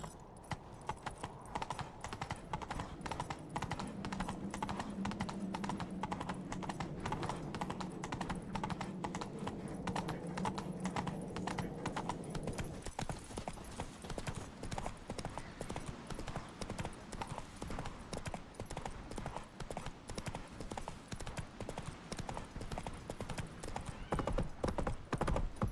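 Horse hooves clip-clop steadily and fairly close for the whole stretch in The Witcher 3: Wild Hunt, over a low droning game backdrop in the first half.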